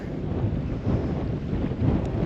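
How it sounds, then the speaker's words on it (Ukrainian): Heavy wind buffeting the microphone, a steady low rumble with gusty swells throughout, loud and close. "Довбаний вітер"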